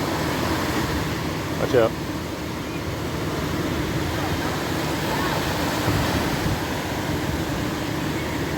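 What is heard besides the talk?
ocean waves washing up on a Los Angeles beach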